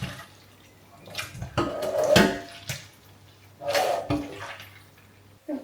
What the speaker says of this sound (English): just to squeeze as much of the water out as I can